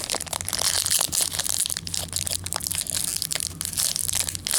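A Pokemon Breakthrough booster pack being torn open up close, a dense run of crinkling, crackling foil and rustling wrapper noise over several seconds.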